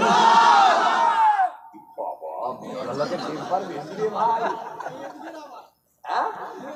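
A large crowd at a late-night Bengali religious gathering shouts in unison after a lead voice, a loud collective cry followed by scattered calls, chatter and some laughter.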